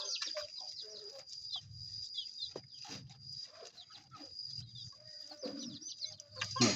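Farm chickens, vaccinated hens and roosters of a native breed, cluck and chatter near and far, with sharp calls and rustling over a quiet yard.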